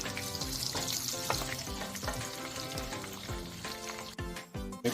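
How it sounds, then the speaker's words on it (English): Eggplant fries in hot oil for an eggplant omelette with ground pork, giving a steady close sizzle with bursts of crackle and a few low knocks from stirring, with no talking. "So I'm frying the eggplant."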